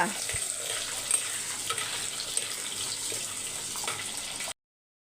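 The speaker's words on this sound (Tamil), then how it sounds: "ஒரு பதினஞ்சு சின்ன வெங்காயம் இது கூடயே ஒரு மூணு முருங்காய் எல்லாத்தையும் ஒட்டுக்கா போட்டு வதக்கிக்கோங்க" Fifteen small shallots and three drumsticks sauté together in a pan, with a continuous close sizzle and faint stirring scrapes that stop abruptly.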